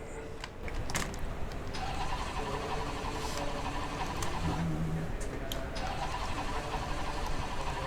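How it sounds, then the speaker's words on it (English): A Porsche race car's engine turns over and fires up in the Assetto Corsa Competizione racing game, a steady, close mechanical roar with whirring tones and a few sharp clicks throughout. "let's fire up the engine and just hold on to your hats"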